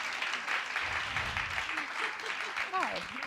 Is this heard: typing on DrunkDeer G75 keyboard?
no